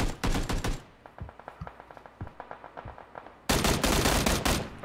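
Bursts of rapid assault rifle fire from the PUBG battle royale game, loud and close, with a dense volley, a stretch of spaced single shots, then another sustained burst.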